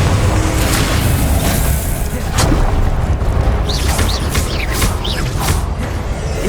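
Spell explosions in a Harry Potter game on PS5, a dense run of loud booming blasts and crackling bursts with whooshing streaks, sounding close and continuous amid heavy game combat noise.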